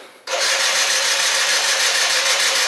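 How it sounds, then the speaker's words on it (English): After a brief crank, a long-unused Malaguti Phantom F12 scooter engine bursts into life and runs loud and raspy with a fast, buzzing putter, very close, with no talking. "I really haven't started this scooter in a long time."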